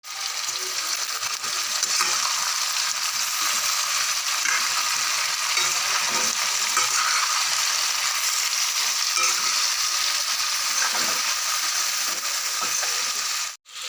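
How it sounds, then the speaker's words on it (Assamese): Young jackfruit, potato and meat fry in a new wok for a home-style Assamese dish. A steady, close hiss of sizzling oil runs evenly throughout, with faint stirring and no talking, then cuts off abruptly at the end. "দেখিবলৈ পাইছে ধুনীয়াকৈ ভাজি লৈছোঁ কঁঠালৰ মুচিখিনি, আলু আৰু মাংসখিনি"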